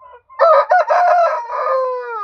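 A gamecock of the asil breed with kata bloodline crows loudly and close by, giving one full cock-a-doodle-doo that breaks into a few bursts before a long, fading drawn-out tail, with no talking.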